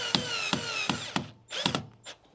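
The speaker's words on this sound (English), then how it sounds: "do my final drill with a chunkier drill bit" A power drill with a thicker bit bores a hole while a Ring security camera is being mounted, giving short whirring bursts with sharp starts, about five or six spaced pulses, close and moderately loud.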